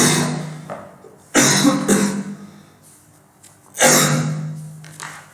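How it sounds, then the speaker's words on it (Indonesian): Two harsh, loud coughing fits close to the microphone, each a burst that trails off, with quiet pauses between them. "lagi batuk nih ya"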